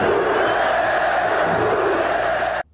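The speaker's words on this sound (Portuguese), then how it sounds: "a torcida comemorou este gol" A football crowd at a 1995 Coritiba match in the Brazilian championship roars to celebrate a goal, a loud dense cheer of shouting voices that holds steady and then cuts off abruptly.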